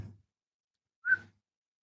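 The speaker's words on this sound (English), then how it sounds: "Can you whistle?" A single short whistled note, clear and fairly close, rising briefly then stopping, with silence around it.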